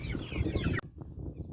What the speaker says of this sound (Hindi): ये जी अभी बड़ी मुर्गी पकड़ ली है